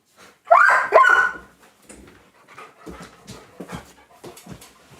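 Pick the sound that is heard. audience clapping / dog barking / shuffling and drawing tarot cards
dog barking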